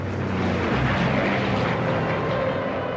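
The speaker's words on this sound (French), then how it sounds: "Les Mosquitos rentrent à la base un par un" De Havilland Mosquito warplanes returning one by one to an airfield: a steady, dense propeller-engine drone filling the whole stretch at constant loudness, with no voices.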